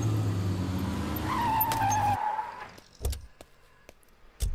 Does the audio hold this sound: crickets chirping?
no